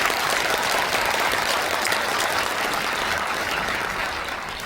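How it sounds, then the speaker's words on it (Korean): Audience at a public hearing on merging education and administration, giving sustained applause from a crowd, even and continuous, fading slightly at the end. "박수 한번 보내주시면"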